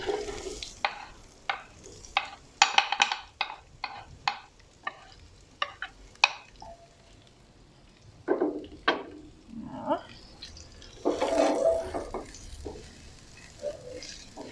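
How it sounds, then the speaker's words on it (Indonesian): A wooden spatula stirs Indomie noodles and other ingredients in a pot with a little oil, giving a series of sharp scraping and knocking strokes at an uneven pace, close up over a faint sizzle. "Bisa juga dicampur pakai spatula yang dibuat dari kayu."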